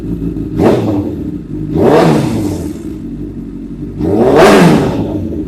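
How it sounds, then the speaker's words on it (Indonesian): A 2014 Honda CBR 1000 motorcycle engine is revved three times up close, each sharp rise and fall of the throttle landing over a steady idle rumble, the last blip the longest, with no voices. "Kita geber dikit ya."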